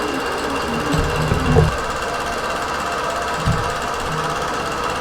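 A quilting sewing machine stitches a basted quilt with a snowflake pattern, a steady close mechanical hum with rapid needle chatter and a few louder thumps.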